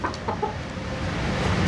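Native country chickens (nati koli) kept in a cage cluck in short, scattered calls over a steady background hum, fairly close and moderately loud.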